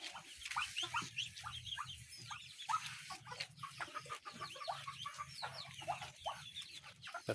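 Farm chickens, including roosters, cluck and chatter steadily in a flock during heavy rain, a busy layer of overlapping calls over low rumbling noise, fairly faint and with no talking.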